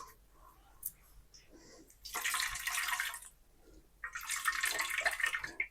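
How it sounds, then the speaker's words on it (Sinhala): Blended leaf pulp is wrung out by hand, releasing two bursts of water that splash and trickle into a container, separated by a quiet pause. "හොඳටම මේකේ තියෙන වතුර ටික මම මෙන්න මේ ආකාරයට මිරිකලා හරිනවා"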